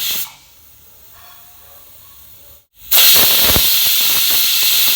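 A pressure cooker on a stove holding a pan and a glass of water releases a loud, sustained hiss of escaping steam after a quiet stretch, continuing steadily to the end.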